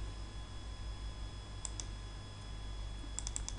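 Computer mouse clicking while working in Excel, a few sharp, close clicks, one pair in the middle and a quick cluster near the end, over a low steady hum.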